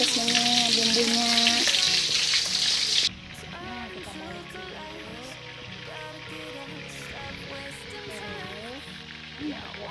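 Pindang fish fries in a pan with a loud hiss that drops abruptly to a softer, steady sizzle. Someone talks continuously over the cooking.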